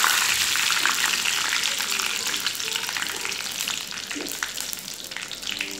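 Curry leaves hit hot oil with mustard seeds for a ginger pickle curry, setting off a loud, close, crackling sizzle with sharp spitting pops that holds steady throughout.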